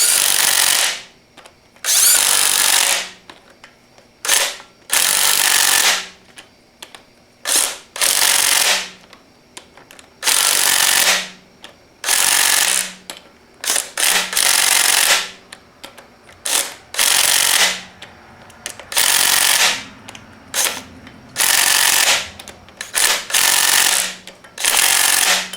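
Bursts of a power tool driving the clutch bolts on an MGA flywheel in a cross pattern, loud whirring pulses of a second or two repeated with short pauses between, no talk.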